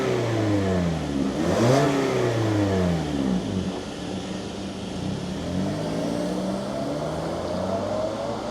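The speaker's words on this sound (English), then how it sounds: "let's fire this up and hear what it sounds like" A 2025 Toyota Corolla FX's 2-liter inline-four engine fires up and revs, its pitch sweeping up and down before settling into a steady, fairly loud idle, with no talking.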